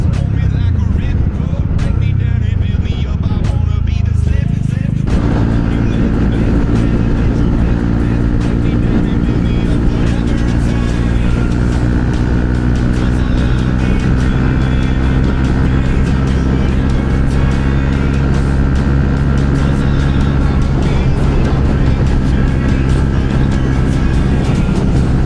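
A motorcycle ridden along a small road on the way to class in the morning, its engine settling from uneven revving into a loud, steady droning cruise with constant wind and road noise.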